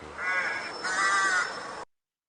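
A crow caws twice in quick succession, harsh and fairly close, with nothing else heard around the calls.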